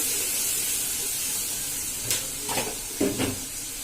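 Ginger garlic paste sizzles in hot oil in a pan, a steady loud hiss throughout with a few brief clatters near the end.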